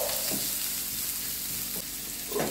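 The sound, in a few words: onions sautéing in oil and being stirred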